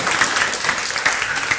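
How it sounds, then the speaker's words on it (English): Brief applause from a small audience welcoming a guest named Jason at a talk, a short patter of hand claps with a few sharper individual claps, fairly close, with no talking over it. "You clap lah, you all clap lah."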